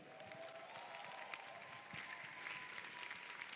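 An audience at the Impact Conference keeps up a soft, even patter of clapping that sounds distant and low in level, with no voices over it.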